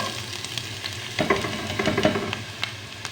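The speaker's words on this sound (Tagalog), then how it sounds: "Nagigisa ako guys. Sibuyas." Onions sautéing in hot olive oil in a home kitchen, a soft steady sizzle with a few scraping stirs of a utensil against the pan partway through, fairly quiet and without talk.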